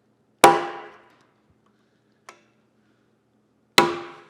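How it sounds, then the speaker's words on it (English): Two loud, sharp metallic strikes of a hammer on a center punch marking hole spots in sheet metal for a custom coolant tank, each ringing briefly, with a faint light tap between them and no talking. "So I'm just going to center punch these little areas"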